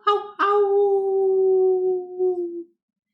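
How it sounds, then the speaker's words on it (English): A wolf-pack howl at the moon comes as one long, drawn-out howl with a short opening yelp. It holds a steady pitch for over two seconds, loud and clear with nothing else under it. "when the stars are bright, the wolf pack howls at the moon."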